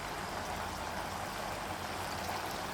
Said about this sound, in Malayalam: നമ്മുടെ കറി തിളച്ച് വരുന്നുണ്ട്.